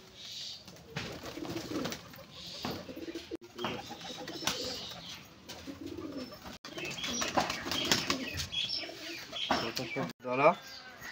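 Giribaz pigeons cooing close by, soft throaty coos and scattered chirps mixed with faint background voices and outdoor bustle.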